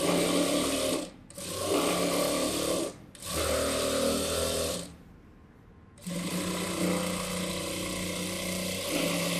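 A sewing machine runs edge stitching along a blouse hem in three bursts of steady whirring, with short pauses between them and a longer gap before the final run.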